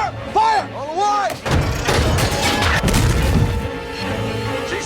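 A tank gun fires at a target on a shouted command, heavy booms and crashes close by, mixed with loud engine rumble and a voice calling orders.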